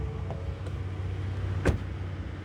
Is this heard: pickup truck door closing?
yes